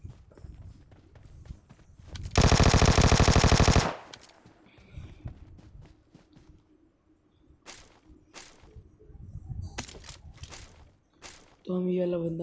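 Automatic weapon fire in PUBG Mobile on the Livik map: one loud, sustained burst of rapid shots lasting about a second and a half, with scattered single shots and game effects around it and a voice talking under parts of it.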